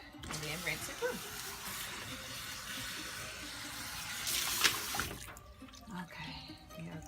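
Running water rinses shampoo lather out of natural hair at a salon sink, a steady splashing flow with a brief louder gush partway through.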